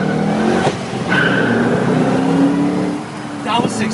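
A 2007 Shelby GT500 V8 fitted with an aftermarket exhaust accelerates hard from a standstill, its loud engine note rising through gear changes with brief dips, while people talk and exclaim over it.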